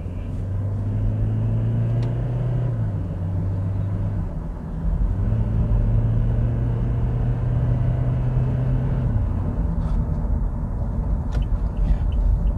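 A modified Toyota Fortuner SUV accelerates on the road, a steady droning engine hum that holds, dips with a gear change, then climbs again under continuous road rumble, with a few faint clicks near the end.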